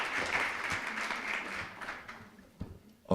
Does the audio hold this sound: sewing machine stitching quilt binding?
no